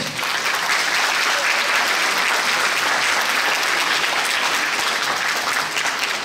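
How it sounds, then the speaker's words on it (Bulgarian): A concert audience at the Balkan Folk Fest international festival applauds the festival director, a steady, dense roar of clapping hands sustained evenly throughout, loud and close. "Моля аплодисменти за директора на фестивала"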